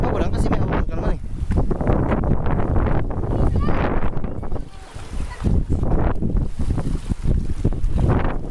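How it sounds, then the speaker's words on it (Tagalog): Strong wind roars and buffets the microphone almost without pause, with faint voices and a hint of water beneath the gusts. "Lakas po ng hangin."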